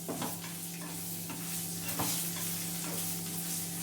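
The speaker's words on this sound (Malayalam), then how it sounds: "ഈ മുളക് ഇതിലിട്ടിട്ടൊന്ന് വാട്ട് ചെറുതായിട്ട്." Green chillies sizzle steadily in a hot pan of oil for a chilli pickle, with soft scraping stirs across a continuous close frying hiss and no talking.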